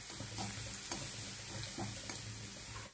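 Garlic paste frying in oil with cumin, coriander, fennel and carom seeds gives a steady close sizzle, broken by a few light spoon taps and scrapes as it is stirred.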